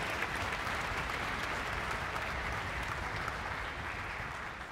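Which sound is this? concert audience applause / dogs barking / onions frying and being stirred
concert audience applause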